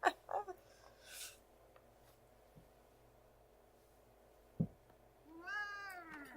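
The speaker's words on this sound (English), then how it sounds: "That is my kitty. He is mad." An angry cat gives several short, sharp meows and growly cries indoors, loud bursts separated by quiet gaps, ending with a longer wavering yowl.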